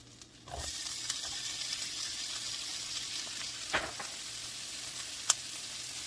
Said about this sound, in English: I want to saute my vegetables and my meat